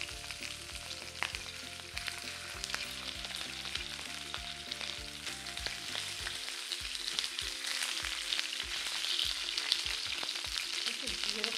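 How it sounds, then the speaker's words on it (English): Sausages sizzle and crackle in hot oil, a dense continuous frying hiss with sharp pops, close up and fairly loud, no voices. "Listen to that sizzle going on there."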